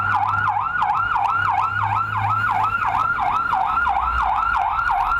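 Fire engines from a fire and rescue unit arrive at a staged emergency drill in Magas, their siren wailing loudly and continuously in a steady rising-and-falling sweep, close by with engine rumble underneath and no talk.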